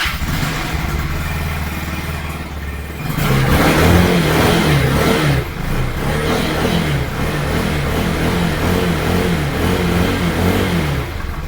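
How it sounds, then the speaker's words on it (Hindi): A Taro GP 2 200cc, 18HP motorcycle idles through its stock exhaust with a steady, thumping beat, then revs up loudly and close before settling into a rhythmic, pulsing idle. "आपने इसका ये जो सा स्टॉक एग्जॉस्ट की साउंड सुनी है"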